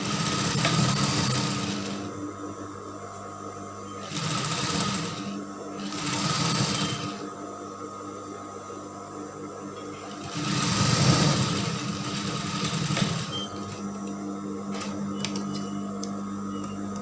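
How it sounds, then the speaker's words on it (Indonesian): A sewing machine stitches a cape dress, running in several loud, close bursts of rapid whirring and needle chatter, separated by short pauses over a steady hum. "Lalu baru ini kita jahit."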